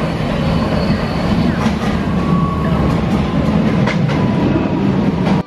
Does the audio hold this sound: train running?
yes